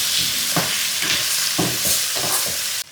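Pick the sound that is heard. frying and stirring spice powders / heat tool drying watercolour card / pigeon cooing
frying and stirring spice powders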